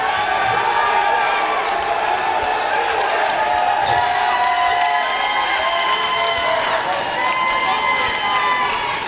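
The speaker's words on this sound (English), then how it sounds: "The Mitchell faithful cheering on their Mitchell Mustangs" Home crowd in a high school basketball gym, Mitchell Mustangs against Tarpon Springs, keeps up a steady roar of cheering and shouting through the whole stretch, with sneakers squeaking and a ball bouncing beneath it.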